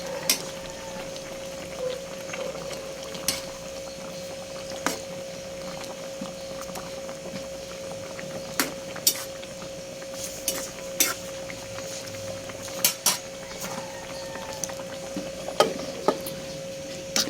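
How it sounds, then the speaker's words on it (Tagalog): A spoon scrapes and knocks in a cooking pot as santol and saluyot stew is stirred, giving scattered sharp taps over a steady low simmering hiss. "At akin nang hahaluin."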